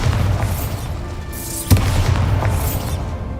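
A Bombarda spell explosion in Hogwarts Legacy, one deep, sudden blast with a sharp crack near the middle, followed by a rumbling decay under steady game ambience.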